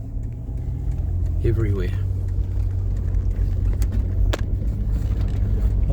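Dense road traffic during Cyclone Gabriel near Te Pohue and Napier, a loud continuous low rumble of many passing vehicles with a person speaking briefly over it.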